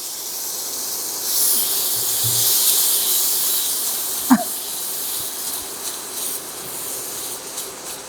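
Tomato and Kashmiri chili paste added to garlic in a pan, giving a steady loud hissing sizzle that carries on unbroken, with one brief clink midway.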